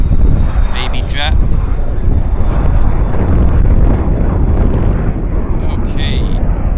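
A Boeing jet at Vancouver airport roars steadily and loudly, its broad rumble blended with buffeting wind noise, while short bits of voice break in over the top.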